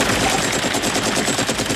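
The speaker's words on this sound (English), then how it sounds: "And the Russians from the helicopter shoot up the water in hopes of killing him still." Sustained machine gun fire from a Russian helicopter in Rambo: First Blood Part II, strafing the water in a dense, continuous rattle of rapid shots, loud and close.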